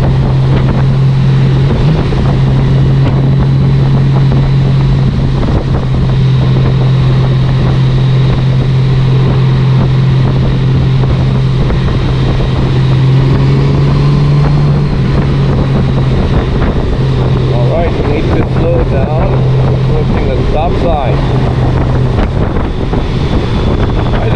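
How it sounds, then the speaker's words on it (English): A 2020 Honda GoldWing Tour DCT motorcycle in sports mode, a steady engine drone with a strong low hum running throughout, heavily masked by loud constant wind rush over the microphone while riding. "Even slightly twisting the throttle and the bike wants to just zoom."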